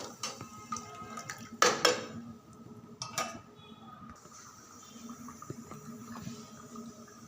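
Kathiyawadi kadhi being stirred in a pot on the stove, with a few clanking scrapes of a spoon against the metal followed by a soft, steady simmer.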